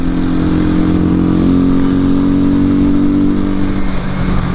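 A 250cc Janus Halcyon motorcycle pulls steadily under acceleration, its mid-pitched engine drone loud and close throughout with a rising hum and constant road noise, no talk over it.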